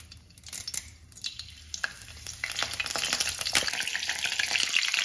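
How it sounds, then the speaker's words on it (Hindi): Curry leaves drop into hot oil in a wok and sputter, building into a loud, steady sizzle and crackle that grows denser over a few seconds. No one speaks. "अब इसमें हम कड़ी पत्ता डालेंगे।"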